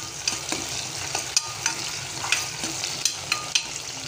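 Masale bhat with green peas is stirred and fried in a pan: a steady close sizzle runs throughout, broken by repeated sharp spatula clicks and scrapes against the metal.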